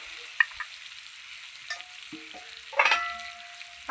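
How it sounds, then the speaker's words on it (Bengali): Potatoes with salt and turmeric fry quietly in a pan, giving a faint sizzle with occasional scrapes and clinks from stirring. "একটু লবণ, একটু হলুদ দিয়ে আলুটাকে আমি ভালো করে ভেজে নেব"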